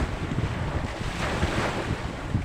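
Sea waves wash steadily along a shoreline while gusty wind buffets the microphone, a continuous, fairly loud roar of surf and wind noise with no voices.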